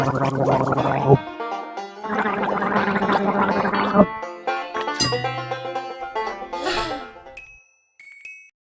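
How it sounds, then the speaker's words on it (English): A cartoon monster gargles in a children's alphabet lesson, with bubbly, throaty gurgling bursts in three loud stretches, then a dropping slide and a few bright chimes and jingles near the end. "When you gargle, you rinse your mouth and throat and then spit."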